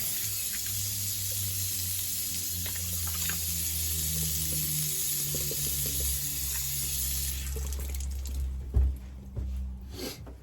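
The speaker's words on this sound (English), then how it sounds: "Let's just rinse this alum off." Running tap water rinsing alum off after a shave, a steady close splashing flow with wet handling sounds, ending in a few louder splashes and drips.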